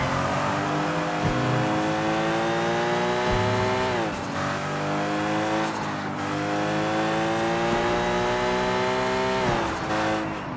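Video game car in Sleeping Dogs driving hard, its engine revving steadily and loud throughout with harmonic drone rising and falling at gear changes, occasional tire noise, no talking.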